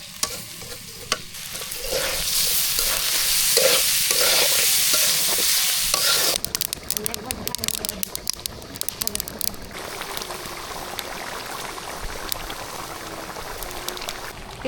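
Bitter gourd and potatoes frying in a pan, a steady hiss of sizzling oil with spatula stirring and scraping, close by, shifting to a brighter crackle partway through.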